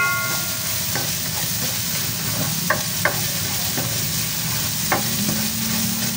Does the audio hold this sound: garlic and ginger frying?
yes